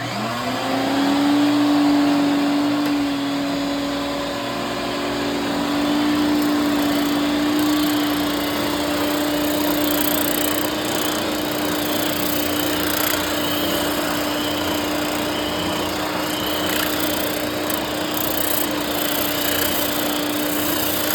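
An oscillating sander runs with a vacuum hooked up for dust during a ukulele build, giving a steady, fairly loud whirring drone that continues without break.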